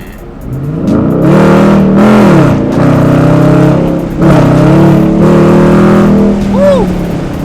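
Dodge Challenger R/T engine revving hard up and down in several loud, close surges, each throaty rise falling back to idle, with a brief whoop of a voice near the end.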